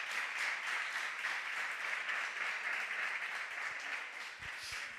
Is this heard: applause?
yes